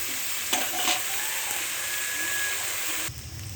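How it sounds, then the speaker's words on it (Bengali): Small eggplant pieces frying uncovered in oil while being stirred, a steady close sizzle with a few sharp scraping stirs near the start and a duller shift near the end. "ঢেকে দেবো না, এভাবে নেড়ে ছেড়ে ভাজি করবো"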